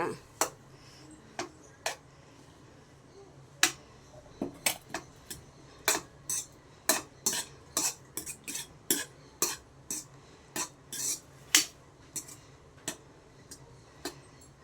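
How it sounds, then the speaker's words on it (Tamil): A spoon stirs cooked rice for beetroot rice in a pot, making irregular sharp clinks and scrapes against the metal, fairly quiet and close, repeating throughout. "சாப்பாடு நல்லா கிளறி விட்றாங்க பாருங்கள்."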